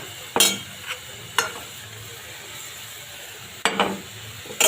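Green chillies and tomatoes added to a hot pan of spiced masala, a steady low sizzle broken by a few sharp stirring scrapes and bursts.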